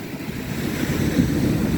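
Surf washes onto the shore of the Black Sea at Odesa's Golden Shore beach in December, a steady low rush with wind noise, near and moderately loud.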